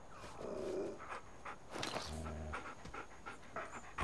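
A tamed wolf in the caveman-era game Far Cry Primal pants in quick, breathy bursts close by, with faint footsteps and ambient game noise around it and no talking.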